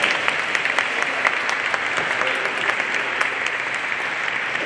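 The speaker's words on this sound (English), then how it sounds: "Let's give him another round of applause" An audience at a Vesak celebration applauds steadily, a dense, even wash of many hands clapping throughout, moderately loud and close, without talk above it.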